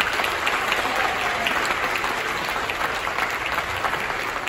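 A large audience applauds at a youth film awards night, dense sustained clapping that fills the room evenly for several seconds, with no voices standing out above it.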